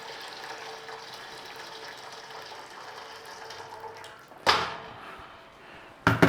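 Water is poured into a pan for steaming an orange sponge pudding, a steady filling hiss that ends, followed by two sharp clanks of the pan or lid.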